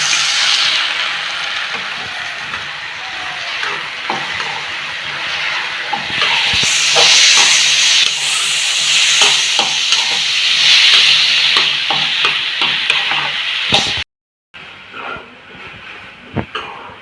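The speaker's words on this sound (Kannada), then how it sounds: "ಆ್ಯಂಡ್ ಟೊಮೆಟೊ ಜೊತೆಗೆ ಏನಂದರೆ 3 ಮೆಣಸಿನ್ಕಾಯಿನೂ ಹಾಕ್ಕೊಂಡು ಫ್ರೈ ಮಾಡ್ತಾಯಿದ್ದೀನಿ" Tomatoes and three green chillies fry in a pan for a paneer curry, giving a strong hissing sizzle with scraping stirs and clacks, briefly cut by a gap near the end before fainter stirring resumes.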